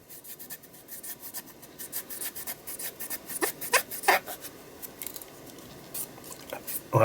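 A metal spatula being scraped and wiped clean after stencilling with gilding glue, giving soft rubbing and scraping strokes with a few sharper scrapes near the middle, close and fairly quiet, no talking.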